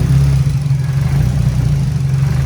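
Turbo Nissan Silvia S14 race car engine runs at a steady, loud idle nearby, a deep throbbing drone with slight pulsing and no voices.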